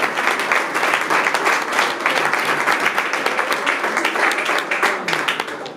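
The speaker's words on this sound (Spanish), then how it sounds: "Un aplauso para toda la gente de gastronomía de la casa" A crowd at a live band concert applauds the restaurant's kitchen and dining-room staff, with loud, close, continuous clapping over a murmur of crowd noise that tapers slightly near the end.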